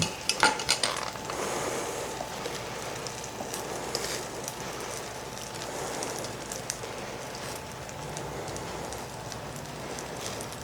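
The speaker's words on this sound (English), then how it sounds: "Can you hear that sizzle? That's a hot pan." Steady, dense sizzling hiss from a hot pan, with a few clinks of utensils at the start, continuing evenly throughout.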